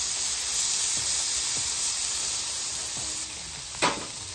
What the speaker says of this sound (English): Check the oil in the hot spot. Start searing that filet.